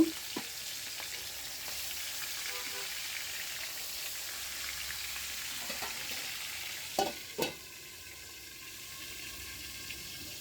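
Fish frying in oil in a home kitchen, a steady close sizzle with oil spatter throughout, a couple of sharp clinks of a lid or utensil near the end.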